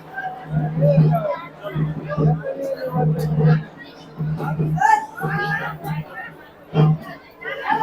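Dense crowd chatter at the Yedamai temple fair in Pimpaldari, with overlapping voices, children among them, forming a steady close babble that swells and dips throughout.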